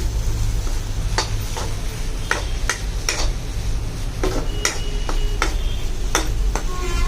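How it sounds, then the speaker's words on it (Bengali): Maggi noodles and masala are stirred in a pan, giving a steady series of sharp scraping clicks from the utensil over a constant low background hum, with no talking. "এখন মশলাটা দিয়ে আমি নাড়াচাড়া করছি।"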